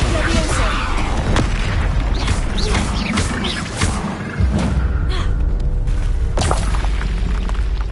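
Confringo explosion spell in Hogwarts Legacy: loud booming blasts and thuds over constant rumbling combat noise, with a brief dip before another burst.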